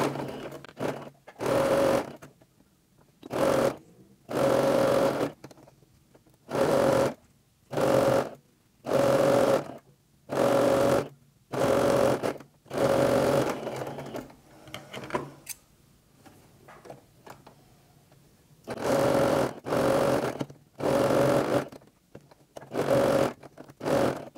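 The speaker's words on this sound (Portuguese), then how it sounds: "passar no pezinho de máquina e desvirar" A sewing machine stitches heart-shaped cushion fabric, with backstitching at the start and end of each seam: repeated loud, close bursts of rapid mechanical whirring, each a second or so long, separated by short pauses and a longer quiet gap midway.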